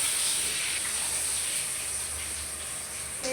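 Hot oil sizzling hard in a pan while fish fries and ginger-garlic paste goes in, a loud, steady hiss with no breaks and no talk over it.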